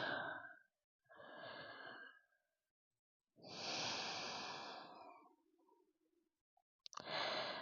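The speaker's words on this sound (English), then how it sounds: "Taking 2 more of those slow, steady breaths" Slow, steady breathing during a gentle lower-body yoga stretch, with long audible inhales and exhales, several close breaths separated by short silences and no voice.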